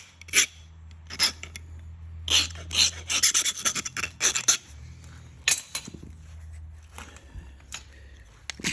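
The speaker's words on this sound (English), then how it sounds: "Give it a little file." A file rasps along the edge of a flint arrowhead during knapping. The strokes are short and scratchy, some single and some in quick runs, loud and close against a low background hum.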